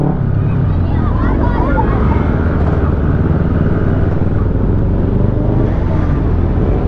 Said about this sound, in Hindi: ये एक बार राइडिंग देख लेते हैं। जस्ट बिल्कुल सामने चले मेरे अक्की ब्रो।